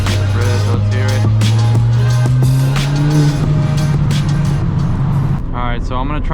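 A Ford Fiesta ST with an E30 tune, heard from inside while driving, its engine note rising steadily under acceleration, loud and close, then settling as the revs drop near the end.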